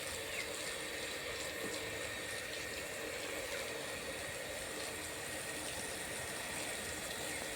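Water pours steadily from a pipe outdoors, a continuous gushing wash that stays even throughout at moderate level, with no talk.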